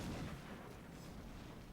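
Rockets exploding in the strategy video game XCOM: Long War, a faint distant boom followed by a rumbling, crackling tail that fades slowly.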